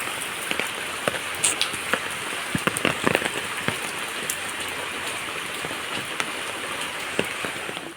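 Steady rain falling outdoors during a heavy downpour with flooded surroundings, a continuous close hiss of drops on surfaces with scattered sharper drip taps, and no talking.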